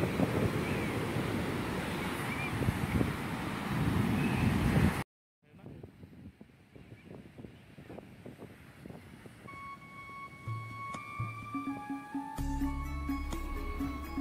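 Surf and wind at Mlarangan Asri beach, with waves washing steadily under gusty wind buffeting the microphone, a brief dropout midway, then softer rolling surf with scattered tonal sounds in the background.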